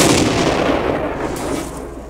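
A tank cannon in World of Tanks on the Abbey map fires one heavy, booming shot whose broad roar fades out slowly over a couple of seconds.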